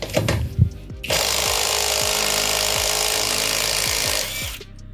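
A cheap AliExpress impact wrench unscrews a wheel nut, giving a few short clicks and then a loud, continuous rattling hammer for about three and a half seconds that stops abruptly.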